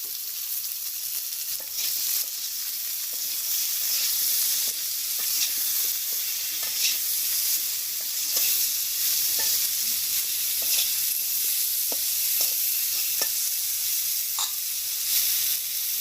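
Food sizzles in hot oil with salt and turmeric in a village kitchen while a spoon stirs it, a steady close frying hiss broken by scattered scraping and clinking, no talking.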